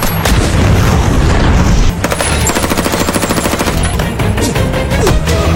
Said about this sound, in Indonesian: Bom itu pun meledak dan menghancurkan kapal serta tubuh Crane